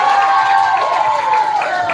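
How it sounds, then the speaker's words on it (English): Clapping and cheering from an audience of schoolchildren at a children's literature festival, applauding a boy's costume. It fills the whole moment at steady loudness, with high excited voices and whoops riding over the claps. "can we give a big round of applause for his costume also?"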